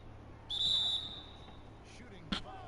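A referee's whistle sounds in an NBA 2K20 basketball game, one sharp half-second blast followed by a shorter chirp, heard amid faint court noise.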